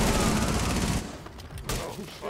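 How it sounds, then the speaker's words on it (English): MAC-11 submachine gun fire in Rainbow Six Siege, a dense loud burst of rapid shots for the first second, then quieter scattered game sounds. "Oh, who's shooting with the Mac 11?"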